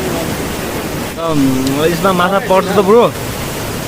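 A big, fast river, the Kate Khola in Baglung, Nepal, rushes with a steady, broad roar that fills the whole clip, while a voice speaks over it in the middle.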